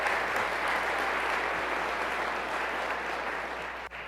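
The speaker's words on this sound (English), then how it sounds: "Everyone give Jimmy a round of applause" An audience at a city's State of the City address applauds a senior council member. The dense, even clapping holds for several seconds at moderate volume, then ends with a brief knock.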